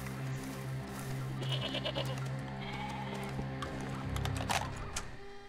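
A goat bleats in the Far Cry 2 video game, with repeated wavering calls over a steady layer of game ambience and no talk.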